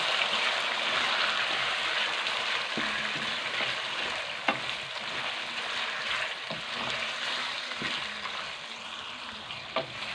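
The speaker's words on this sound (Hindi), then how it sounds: "और चिकन को हमने तकरीबन 5 से 7 मिनट तक के लिए फ्राई करना है ताकि इसका कलर चेंज हो जाए।" Chicken pieces fry in ginger garlic paste in a karahi, giving a steady, loud sizzle with scattered pops and clicks of stirring throughout, and no talking.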